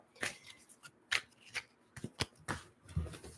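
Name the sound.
shuffling tarot cards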